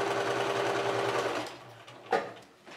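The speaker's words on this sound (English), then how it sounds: "I'm picking up the 4th strip, and I'm just going to sew straight across." Sewing machine stitching quilt strips straight across, a steady close mechanical whirr of the running motor that stops partway, followed by a brief clunk and quiet handling.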